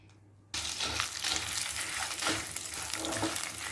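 A steady sizzling and crackling starts abruptly and continues loudly as spices with turmeric and salt roast in a hot pan for bisibelebath powder, with occasional stirring scrapes.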